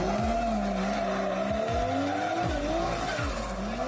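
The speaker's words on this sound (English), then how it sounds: "It is a burnout, it's not a blown turbo." A drift car at a D1GP Malaysia drift event doing a burnout, engine revving in repeated rising surges while the tires squeal continuously, loud and close.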